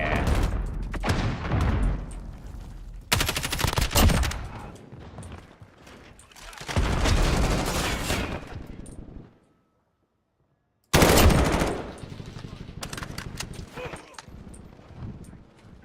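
Rapid bursts of light machine gun fire from Call of Duty: Modern Warfare (2019) ring out loud and close, broken by a short silent gap, with other game sounds in between.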